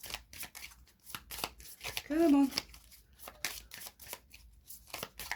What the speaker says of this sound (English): I am going to pull 3 separate cards when I'm told to stop shuffling.